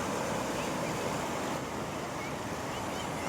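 Floodwater from a village river rushing past in a steady, dense roar that fills the whole moment, with wind buffeting the microphone and no clear break.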